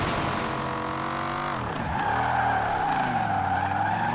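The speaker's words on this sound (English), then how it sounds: "She's drifting in the snow." A 1968 Mustang GT Eleanor drifts on snow at night in Forza Horizon 4, its engine droning steadily loud with pitch dipping and rising through the slide, accompanied by continuous tire skid noise.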